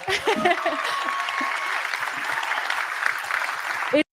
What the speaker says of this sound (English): Tonight, I applaud each of you. We can clap.